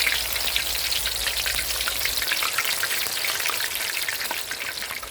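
Battered enoki mushrooms deep frying in oil over medium heat, producing a dense, steady crackling sizzle like heavy rain, loud and close, with no talking.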